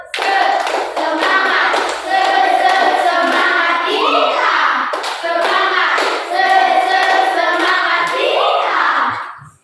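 A class claps in a steady, repeating pattern while voices chant together in an Indonesian 'tepuk semangat' classroom cheer, loud and continuous throughout.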